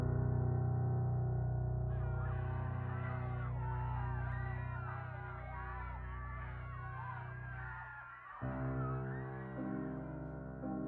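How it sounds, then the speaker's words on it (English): Crowd of people screaming and shouting in panic at a 1932 train station at night, a dense wash of overlapping voices over a steady low rumble, fairly loud and continuous. "It is accompanied this time by the sounds of screaming."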